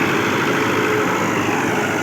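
A Fiat 640 tractor engine runs continuously while pulling a cultivator, a loud, steady, rumbling drone close by with no change in rhythm and no talk.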